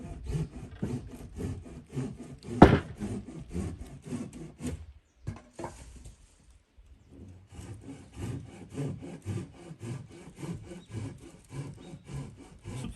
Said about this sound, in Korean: 이쪽에서는 이렇게 톱질 소리도 좋고 예, 나무 떨어지는 소리도 좋고